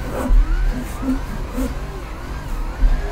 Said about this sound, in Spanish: embragamos, metemos una tercera y ponemos el coche de lado.